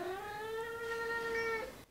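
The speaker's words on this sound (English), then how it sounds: "That's a sassy cat, sassy Toddy." A cat lets out one loud, drawn-out meow that holds and wavers for nearly two seconds before it cuts off, close by with no talking.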